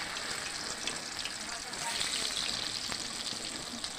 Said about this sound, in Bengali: উল্টে দিয়ে আর এক পিঠ ভেজে তুলে নেবে।